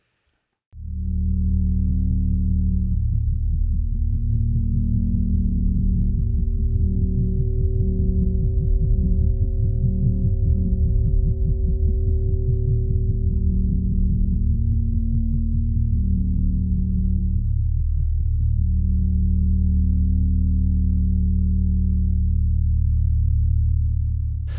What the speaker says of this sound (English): So this is the kind of synthesizer that you're going to be designing as homework this week